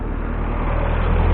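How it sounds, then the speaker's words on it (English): A car passes close by at ground level near a small brick building, a steady broad engine and road rumble that holds loud and slightly swells toward the end, with no voices. "Just move out the way of this car."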